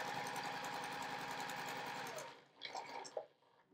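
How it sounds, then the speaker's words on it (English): A sewing machine runs steadily, stitching along the short end of a quilt project, with a constant close mechanical whir that stops partway through, leaving a few soft handling sounds. "Now I'm going to sew along the short end."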